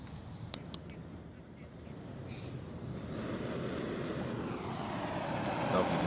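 A steady, rising roar of a Pocket Rocket camping stove burner hissing as it heats water, getting louder toward the end, with a couple of faint clicks early on.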